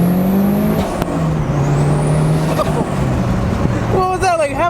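A 1993 Toyota MR2 Turbo with a built 540 hp engine runs at half throttle, heard as a steady droning hum under road noise from inside the car, with a short rising whine at the end.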